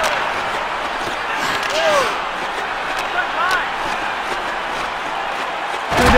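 During a KHL ice hockey game between Metallurg Novokuznetsk and HC Lev Praha, a hip check slams a player into the boards with a sudden heavy thud near the end. Arena crowd noise runs underneath, with a commentator talking throughout.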